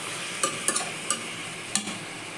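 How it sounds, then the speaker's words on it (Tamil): Vegetables sauté in hot oil with a soft continuous sizzle, punctuated by several sharp taps and scrapes of a spoon stirring in the pan. "ஒரு நிமிஷம் அப்படியே வதக்கி விட்டுருக்கோம். எண்ணெயில் வதங்கும் போது நல்லாயிருக்கும்."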